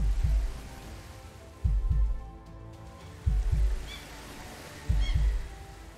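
A murder mystery RPG video game plays a soft, low heartbeat in the background, with paired thumps repeating at a slow, even pace under a faint ambient bed.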